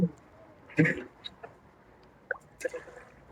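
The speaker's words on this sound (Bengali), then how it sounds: "দিয়ে দেবো অল্প করে পানি" Water is poured in small amounts onto spices (coriander, chili powder and salt) in a pan for a rohu fish curry, giving a few brief wet splashes and drips against a quiet background.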